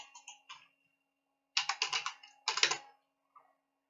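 Short bursts of fast typing on a computer keyboard, close and crisp, with quick runs of key clicks separated by brief pauses and no talking.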